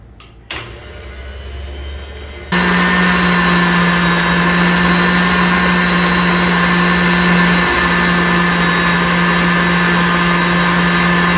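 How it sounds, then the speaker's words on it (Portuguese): A stand mixer whips chantininho cream in its bowl, switching on after a short quiet start into a loud, steady motor whine that holds for about nine seconds with no talking. "vamos bater o nosso chantininho aqui em velocidade, começa baixinha até alta"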